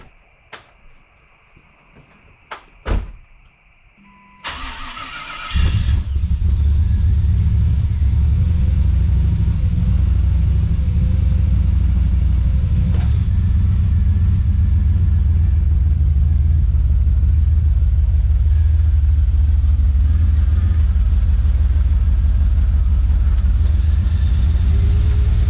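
A Jeep Cherokee is started after an oil change: a few sharp clicks and a brief crank, then the engine catches and settles into a loud, steady low rumble that runs for more than twenty seconds.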